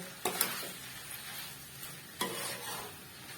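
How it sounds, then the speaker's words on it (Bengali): A prawn masala mixture frying on a low flame and stirred in a pan, with a soft continuous sizzle and a couple of sharper scraping strokes, heard close with no voices. "এই মিক্সটা দিয়ে আবার কিছুক্ষণ একটু নাড়বো"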